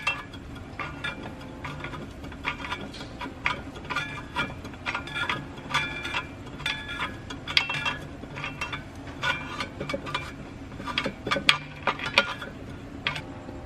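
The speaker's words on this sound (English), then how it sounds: "just pry against the torque converter. You might have to wiggle it around a little bit until it gets to the right spot" A pry bar works against the torque converter of a BMW automatic transmission to push it back in, giving scattered light metallic clinks and scrapes with small ratcheting knocks, fairly quiet and irregular, and no voices.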